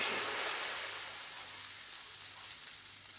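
Zucchini pancake frying in a dry pan with no oil: a steady close hiss and sizzle that fades slightly over a few seconds, alone without voices.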